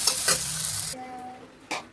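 Fried potatoes sizzle and scrape in a hot pan for about a second, loud and close, then the sound drops to a quieter hiss before one short stirring burst near the end.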